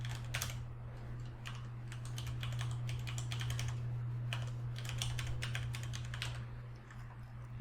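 Computer keyboard typing as an email is written, a steady run of quick keystroke clicks with brief pauses, close and clear over a constant low electrical hum, with no talking.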